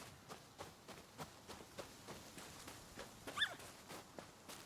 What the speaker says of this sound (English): So it just makes random dog noises